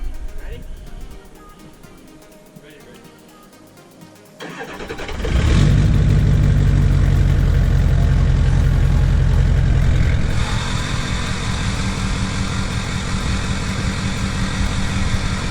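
A Ford F550 truck with a straight-pipe exhaust starts partway in and settles into a loud, deep, steady idle that continues to the end.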